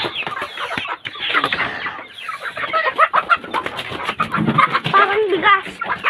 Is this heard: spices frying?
no